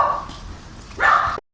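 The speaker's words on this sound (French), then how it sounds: "Il y a le chien là-bas qui..." A dog left outside by its owner gives two short barks, the second louder and closer, separated by a brief pause, with no talk in between.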